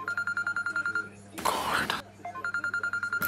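A phone rings with a rapid, regular electronic ringtone, pausing briefly while someone speaks a word under a burst of noise, then resuming close by.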